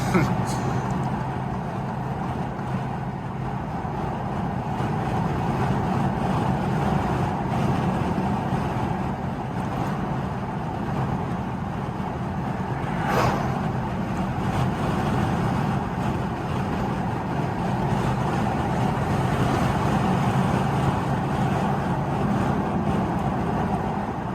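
A tuned Alfa Romeo Giulia drives on country backroads, its engine and road noise a steady, loud drone from inside the cabin, with a person talking over it throughout.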